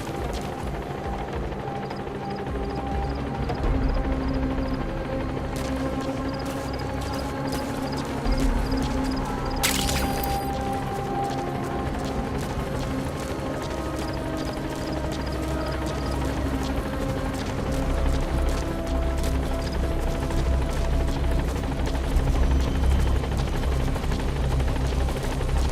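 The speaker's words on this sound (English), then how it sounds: "Support helicopter has arrived." Support helicopter arriving in Metal Gear Solid V: The Phantom Pain, a steady low rotor drone with mechanical rattling and clicks, holding loud and continuous throughout.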